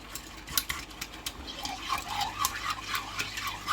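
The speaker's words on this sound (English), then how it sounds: "just whisk it all together really nicely" Two eggs whisked straight in a pan with a cheap wire whisk, a soft continuous scraping and light tapping against the pan surface, close and fairly quiet with no speech.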